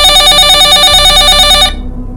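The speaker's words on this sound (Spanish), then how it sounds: "el teléfono dentro de la casa empezó a sonar como una alarma de incendio" A telephone inside a house rings loudly like a fire alarm, a bright, rapidly trilling bell that runs for under two seconds and then cuts off abruptly, leaving a low hum.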